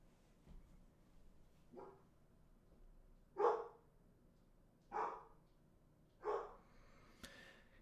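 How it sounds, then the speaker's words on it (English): A dog barks about five times at intervals of over a second, each short sharp bark moderately distant and growing stronger toward the middle, over a quiet room background. "I got to just get my dog to stop barking."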